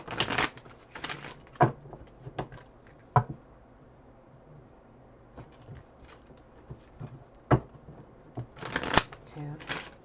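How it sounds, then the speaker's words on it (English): Playing cards are shuffled in several quick riffling bursts spaced across the clip, close and crisp, with soft rustling between. "Shuffle. 2 more times."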